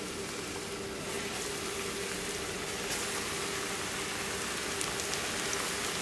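Fish sizzling in hot oil in a frying pan, a steady dense crackle and hiss that holds evenly throughout, fairly close and moderately loud, with no voices.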